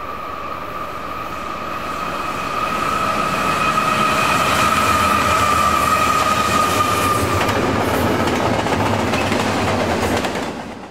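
A heavy intermodal freight train carrying containers rolls downhill past close by on the Pittsburgh Line, its steady rumble building and holding loud, with a thin metallic squeal ringing over the wheels.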